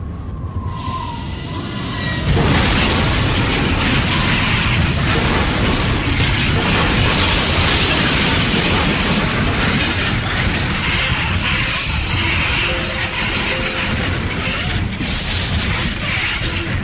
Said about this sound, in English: I think we just derailed.